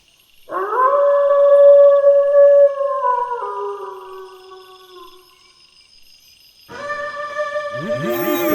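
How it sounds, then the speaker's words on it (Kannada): A jackal howls loudly at night in a radio drama, one long wavering howl that slowly falls and fades, then after a pause a second howl rises with yipping overtones, all clear and close. "ನರಿ ಅಷ್ಟು ಜೋರಾಗಿ ಊಳಿಟ್ಟಿದೆ"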